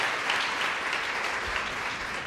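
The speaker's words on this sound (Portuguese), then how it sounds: "Salva de palmas para a nossa primeira missa." An audience at an architects' meeting gives a panel a round of applause. The dense, continuous clapping lasts a couple of seconds at an even level.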